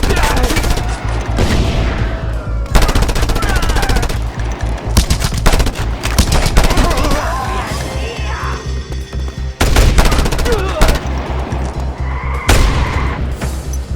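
Gunfire in the video game Just Cause 2 comes as loud, dense automatic bursts and single shots, almost constant with brief lulls, mixed with in-game explosions and faint voices.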